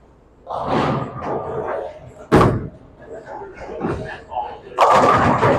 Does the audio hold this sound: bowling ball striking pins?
yes